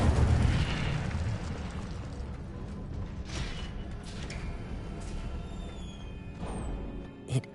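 A fire spell cast in a Hogwarts video game bursts out with a loud whooshing roar at the start, then fades into a sustained crackling rumble that slowly tapers off.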